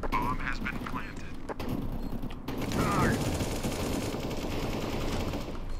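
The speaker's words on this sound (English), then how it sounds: "Someone's going ham with the Mag 7." Mag-7 shotgun blasts echo through a Counter-Strike: Global Offensive match after the bomb is planted, a dense run of sharp gunfire with overlapping shots that stays loud for several seconds, with faint speech mixed in.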